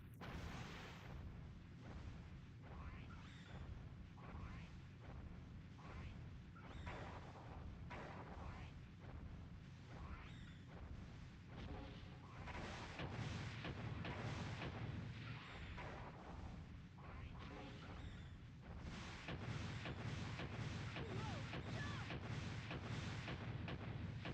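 Deep thundering booms from a looming creature in the Brave Fencer Musashi video game, rolling on continuously with repeated heavy pulses and growing louder toward the end, with no music or talk.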